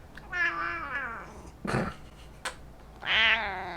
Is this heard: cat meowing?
yes